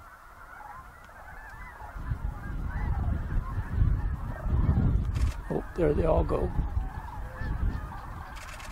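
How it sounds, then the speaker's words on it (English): A large flock of snow geese honks, starting soft and swelling into a loud, dense chorus of overlapping calls as the birds lift off together, with a person speaking briefly. "Bravo, snow geese"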